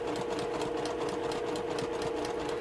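Sewing machine stitching carefully along a marked line on a quilt block, a continuous fast mechanical whir with an even rhythmic clatter of the needle, close and steady with no talking.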